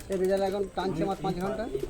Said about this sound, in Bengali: কত সুন্দর পায়রা তোমরা দেখতে পাচ্ছ